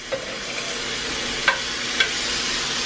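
A burger sizzles in a cast iron skillet after being flipped: a steady, quiet fry hiss with three small sharp clinks or taps of a spatula scattered through it.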